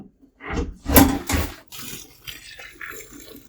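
Water pours and splashes into a bucket being filled, in a couple of strong gushing bursts followed by a lighter, trickling run of water, close to the mic with no talking.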